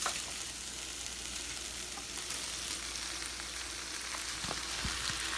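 Tomatoes and garlic fry in a pan with artichokes just added, a steady close sizzle with a few faint pops and stirring scrapes near the end.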